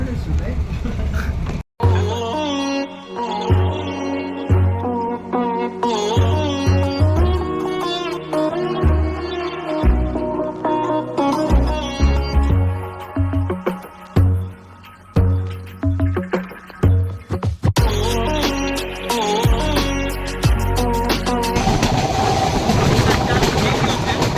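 A passenger train pulls out of Chalala railway station and rolls along, its wheels clattering rhythmically over rail joints with engine rumble and rattling carriages, close and loud, while people talk over it.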